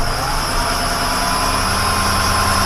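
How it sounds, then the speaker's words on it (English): A 2005 IHC 4200 tire service truck engine runs at raised RPM near 1200, a steady, loud, continuous drone with deep low rumble and constant high whine, no talk over it. "the chassis is turning, letting me bump up the RPMs. Gotta go up to 1200 RPMs."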